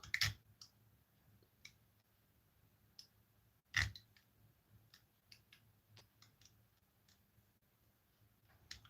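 Small snips and clicks of a cutting tool trimming a plastic model-kit part, an A-4M Skyhawk, off its sprue: two sharper snaps among scattered light ticks, close and quiet, with no talking.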